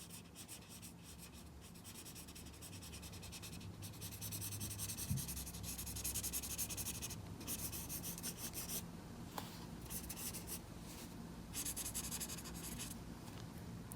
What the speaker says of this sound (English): So I'm going to try to add that color to my drawing.